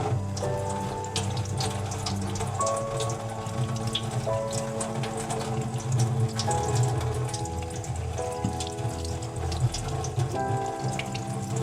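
Warm water runs steadily from a tap into a sink while a stencil mesh is rinsed clean, a continuous splashing stream with small clatters throughout.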